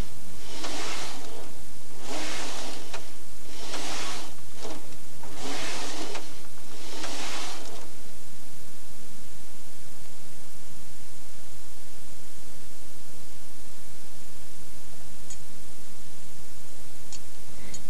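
A knitting machine carriage is pushed back and forth across the needle bed, knitting rows of waste yarn in about five loud whooshing sweeps over the first eight seconds, then steady hiss remains.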